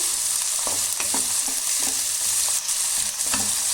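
Onions fry in a pan with a constant bright sizzle while a spoon stirs them, giving several soft scraping knocks at irregular intervals under the steady hiss.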